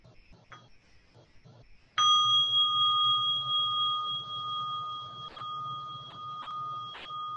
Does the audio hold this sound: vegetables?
no